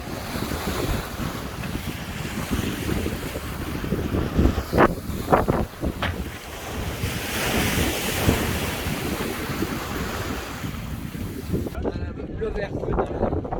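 Strong gusts of wind roaring across the microphone on a sailboat at sea, with waves washing and splashing around the hull throughout, a continuous loud rushing with occasional sharper sprays; a voice speaks faintly underneath.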